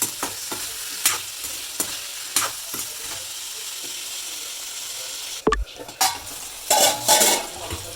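Beans and dried ribbonfish are stir-fried in a pan, giving a steady sizzle with sharp spatula scrapes and clinks against the metal, then a burst of louder rattling and scraping near the end.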